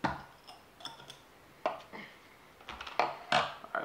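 Genuine Hank's root beer bottle opened with a bottle opener: a series of light metallic clicks, taps and glassy clinks in close, irregular bursts, with a brighter rattle near the end and no talking.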